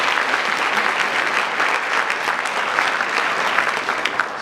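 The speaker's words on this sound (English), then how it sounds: "Give Shane a round of applause." A keynote audience breaks into loud, sustained applause, a dense wash of many hands clapping steadily throughout with no pause.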